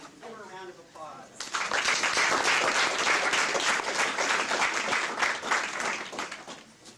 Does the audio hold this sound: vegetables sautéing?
no